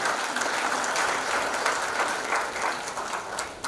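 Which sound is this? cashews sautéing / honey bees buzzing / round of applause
round of applause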